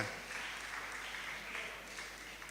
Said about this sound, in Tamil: ஜோரா கைதட்டுங்க அம்மாவுக்கு